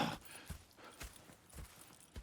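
Horse hooves walking in the Western game Red Dead Redemption 2, a soft, quiet clip-clop of a few spaced steps at a slow, uneven pace, heard alone with no voices.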